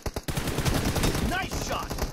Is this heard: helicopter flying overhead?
no